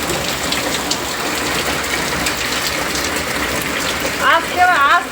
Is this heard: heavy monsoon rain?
yes